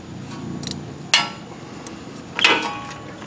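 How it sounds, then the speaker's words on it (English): Tightening bolts on a Pontiac GTO front suspension by hand brings a few sharp metallic clinks and taps, spaced irregularly over quiet workshop background. "Now tighten them down."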